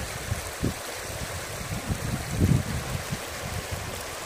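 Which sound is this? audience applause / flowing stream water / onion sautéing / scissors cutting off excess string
flowing stream water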